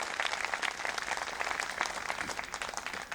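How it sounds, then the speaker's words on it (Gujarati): An audience at a devotional gathering gives a sustained round of applause, with many hands clapping evenly at a steady level throughout. "ફરી એકવાર જોરદાર આપણે એમને તાળીઓથી વધાવી લઈએ."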